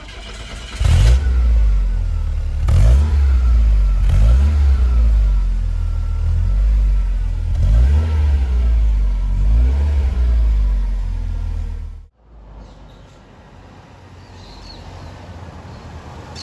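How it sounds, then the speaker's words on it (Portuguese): The AP2000 engine of a 1988 Volkswagen Santana GLS automatic is revved repeatedly, loud close throttle blips rising and falling in a steady rhythm, then cutting off abruptly to a quieter idle. "E aqui o AP2000, que é um clássico dos motores brasileiros"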